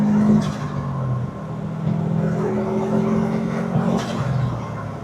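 A Subaru Impreza GC8 is driven on gravel, its engine a steady, close drone with shifting pitch as it accelerates, heard from inside the car with some road rumble.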